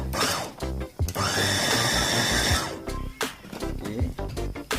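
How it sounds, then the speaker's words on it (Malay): A blender runs a blend of chicken meat with other homemade cat food ingredients, whirring steadily for a couple of seconds between louder clunks and bursts of motor noise. "Okay, so balance separuh tadi kita blender lagi."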